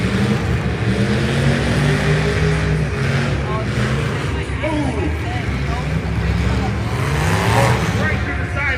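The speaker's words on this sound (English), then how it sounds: "I see three cars still competitively moving." Demolition derby cars revving and grinding at a spring fair arena in Puyallup, Washington, engines roaring continuously and loud with occasional whines, under a commentator's voice.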